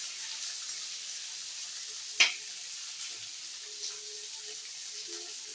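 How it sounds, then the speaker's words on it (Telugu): Sliced onions frying in a pan for sago upma, a faint steady sizzle with one sharp clink of a utensil partway through and a few soft stirring sounds. "ఈ ఆనియన్స్ బాగా వేగాలి"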